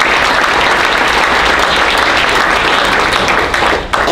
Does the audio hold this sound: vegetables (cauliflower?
no